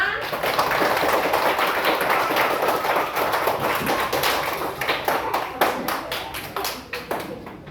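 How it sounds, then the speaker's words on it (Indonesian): Classroom pupils applaud together in a dense burst that thins into scattered separate claps toward the end, fairly close, with some voices mixed in. "Baik, tepuk tangan untuk kita semua."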